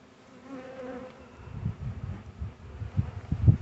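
Honey bees buzz in an open hive during a spring inspection, a soft, steady drone close by. Low thumps and handling knocks grow louder toward the end.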